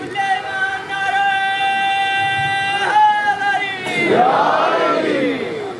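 A crowd at a Shia majlis chants religious slogans. A sustained, ringing call from a lead voice gives way to a loud surge of many voices shouting together.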